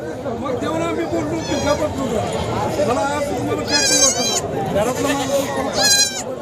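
Goats bleating at a busy goat and sheep market in Sangola, several wavering cries rising over a dense babble of talking people, two calls standing out loud and close near the end.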